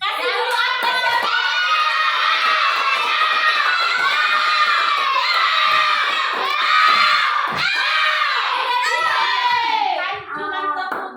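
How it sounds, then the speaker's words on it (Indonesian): Elementary school children in a classroom clapping and cheering together, a loud continuous burst of applause mixed with shouting young voices that fades out near the end. "Kasih dulu aplausnya."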